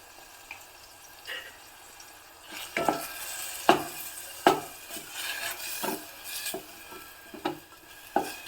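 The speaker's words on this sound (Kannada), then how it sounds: "ಸ್ವಲ್ಪ ಉಪ್ಪನ್ನು ಹಾಕಿಬಿಟ್ಟು ಹುರ್ಕೋತಾ ಇದ್ದೀನಿ" Tomatoes with salt being sautéed in a pan, a spoon knocking and scraping in irregular strokes over a faint steady sizzle, the stirring growing busier partway through.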